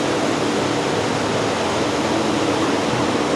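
Fish statues spit water into a fountain at the Forum Shops in Las Vegas, giving a steady, loud, continuous rush of splashing water with no break.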